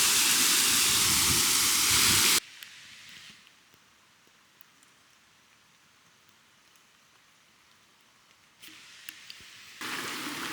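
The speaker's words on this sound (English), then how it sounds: "And there's the waterfall." Waterfall outdoors, a broad loud rushing hiss at the start that drops away to faint distant wash, then returns loud again near the end, with no talking.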